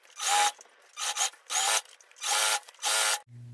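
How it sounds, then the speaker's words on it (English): Fast, whirring bursts from a sped-up sewing machine, five loud runs separated by short pauses, sounding much like a drill, up close. "a sped up sewing machine sounds a lot like an electric drill."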